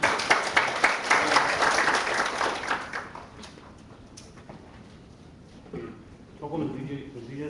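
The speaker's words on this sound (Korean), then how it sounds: "다시 한번 박수 부탁드릴게요." Applause from attendees at a Korean political party's national committee meeting, steady clapping in the opening seconds that fades out, followed by a voice speaking.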